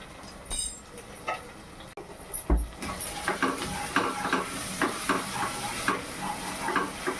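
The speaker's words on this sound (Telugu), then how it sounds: "బాగా పచ్చి వాసన పోయేటట్టు బాగా వేయించుకోవాలి" Paneer masala with salt and turmeric frying in a pan, South Indian style: a few sharp clicks, then a steady close sizzle broken by repeated scraping stirs.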